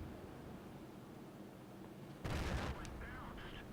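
A 107mm tank gun in World of Tanks fires once in a sudden loud boom over a steady low background rumble, with a ringing echo trailing off afterward.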